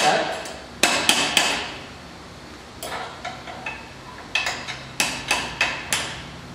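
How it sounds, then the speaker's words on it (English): A hammer strikes a punch to drive out a key from a 912T water valve assembly, landing sharp metallic taps in small clusters of two to four, close and fairly loud, with quiet pauses between groups. "A punch and a hammer to remove the key set"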